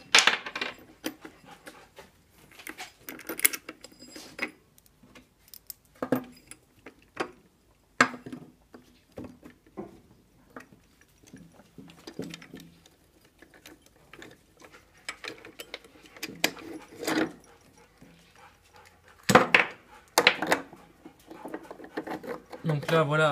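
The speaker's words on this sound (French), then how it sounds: "On démonte le vario." Metallic clinks, ratcheting and scattered tool taps as the variator is taken off a Booster Stunt Rocket scooter engine, sparse and close, with someone talking intermittently between the bursts.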